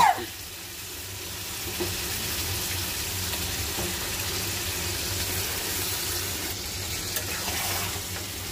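Meat going into a pan of cooked-down masala sets off a steady, close sizzle that runs the whole time, with faint scraping and stirring over it and no talking.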